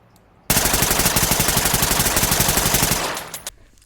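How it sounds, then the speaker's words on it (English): ARN 180 rifle in the police shooter game Ready or Not firing one loud, sustained automatic burst of rapid, evenly spaced shots for about two and a half seconds, close and alone, then a few trailing clicks. "Number 1 on the list is the ARN 180."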